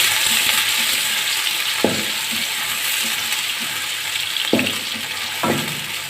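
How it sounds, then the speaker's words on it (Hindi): Onions frying in oil for Punjabi-style sarson ka saag, a steady loud sizzle with a few sharp scraping clicks of stirring. "मैं इसके अंदर डालूंगी प्याज और इसको हम हल्का सा फ्राई कर लेंगे"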